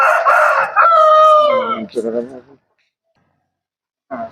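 A rooster raised for cockfighting crows once, loud and close, in a long crow that rises and then trails off. Silence follows, and then a brief sound starts again.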